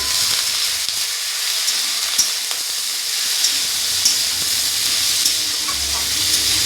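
Drumstick pieces with salt and turmeric frying in a pan, a steady close sizzle with occasional faint scrapes of stirring, no voices.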